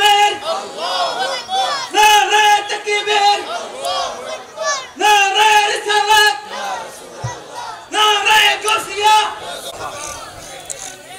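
Large crowd at a religious sermon loudly chanting the takbir in unison, repeated rhythmic shouted call-and-response bursts, close and dense with voices.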